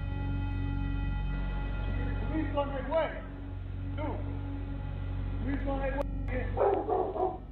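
A dog barks and yips in short bursts caught on a doorbell camera at a front door, the barks spread over several seconds against a steady hum, with a voice also heard.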